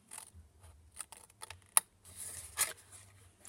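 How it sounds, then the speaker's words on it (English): Scissors snipping down the score line of card stock while making a Christmas card box, a few sharp close cuts and rustles spaced apart. "So we're going to cut down on here"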